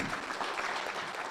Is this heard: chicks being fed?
no